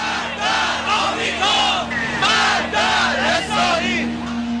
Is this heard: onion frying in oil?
no